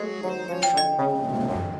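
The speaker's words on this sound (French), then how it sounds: "Qui sonne la cloche à 3h du matin?" A doorbell rings at three in the morning with a clear, close electronic chime whose tones ring out and decay over under two seconds.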